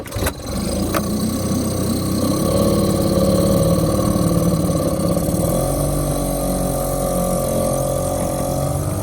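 A motor catches with a sharp start and settles into a loud, steady running drone close by, holding an even rumble with a slight rise in pitch toward the end, with no talking.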